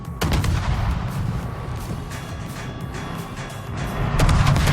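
Naval gunfire booms in a warship battle game, with several heavy cannon blasts and rumbling salvos hitting one after another over a constant low roar of battle.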